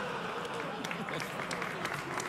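A late-night talk show studio audience breaks into dense, sustained applause, a continuous wash of many hands clapping with a voice faintly heard beneath.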